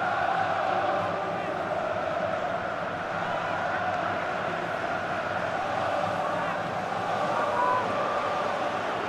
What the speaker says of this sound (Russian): Свистят болельщики гостей.